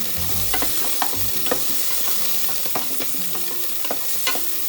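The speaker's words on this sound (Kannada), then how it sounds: "ಸ್ವಲ್ಪ ಫ್ರೈ ಆದ ನಂತರ ಅದಕ್ಕೆ ಹಸಿಮೆಣಸಿನ್ಕಾಯಿ ಹಾಕ್ತಾಯಿದ್ದೀನಿ. ಅದನ್ನು ಸ್ವಲ್ಪ ಫ್ರೈ ಮಾಡಬೇಕು." Green chillies fry and sizzle in hot oil in a pan, with a steady hiss broken by repeated scraping stirs of a spoon, close and clear, no talking.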